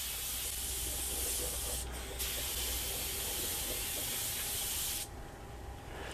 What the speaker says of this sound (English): And spraying the box up.